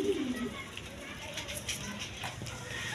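Lotan pigeons coo in low, soft murmurs near a pigeon seller's stall, with a busy background and a voice talking over them.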